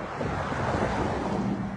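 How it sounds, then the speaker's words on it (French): A stream beside a brasserie in Old Hull rushes steadily, a dense, even wash of flowing water close by and fairly loud for the whole stretch, with no voices. "ça, c'est le ruisseau de la brasserie."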